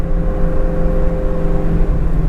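A Ford Mustang GT350 with its resonators deleted cruises between 2,000 and 3,000 RPM, its exhaust giving a loud, steady, droning hum with a constant low tone that stays even throughout.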